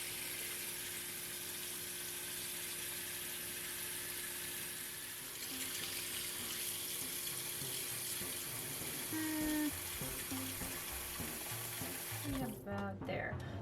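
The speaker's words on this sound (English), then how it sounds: "you fill it up 2/3 full of water" Tap water runs steadily into a crockpot slow cooker being filled two-thirds full for bone broth, a faint continuous rush with a few clinks near the end as the flow stops.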